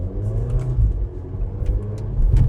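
A first- or second-generation VW Golf GTI hot hatch with a manual gearbox drives along. A low, steady engine rumble and road whir stay close and moderately loud, with a slight swell near the end.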